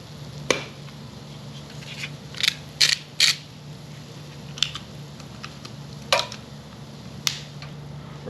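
Black pepper is ground in a hand pepper mill, giving short bursts of dry, ratcheting clicks and crunches spaced irregularly over a low steady hum, close and fairly quiet with no voices.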